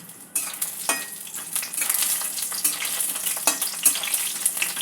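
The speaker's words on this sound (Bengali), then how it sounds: "বড়িটা হালকা করে ভেজে নেব।" Bori lentil dumplings lightly frying in a pan of oil, a steady sizzle broken by sharp crackles and the clatter of stirring, close and fairly loud, with no talking.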